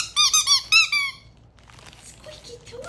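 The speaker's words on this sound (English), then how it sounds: "Squeaky toys, Cedric." Squeaky dog toys for a Chihuahua squeak in a quick run of five loud, close, tonal bursts, followed by faint rustling and quiet background noise.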